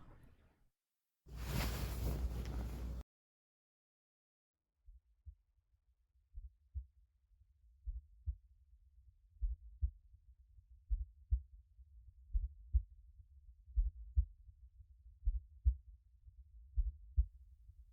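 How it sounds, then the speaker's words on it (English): A slow heartbeat, low and muffled as if heard against a chest, fades in after a brief loud noise and a pause, then thumps steadily in soft repeating pulses and grows gradually stronger. "Let mommy's heartbeat ease your worries."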